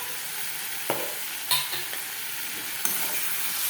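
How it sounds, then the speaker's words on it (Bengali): Steady sizzling hiss of a frying pabda fish curry after water is poured in, with a few sharp spatula clinks against the pan; close and continuous, no voices. "দেখো জল দিয়ে দিলাম"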